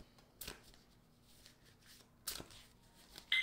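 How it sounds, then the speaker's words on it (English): A deck of tarot cards is shuffled softly, with faint riffling and rustling and two sharper snaps of cards bridging together, all quiet and close with no talking. "I'm going to give the deck a little bit of a shuffle"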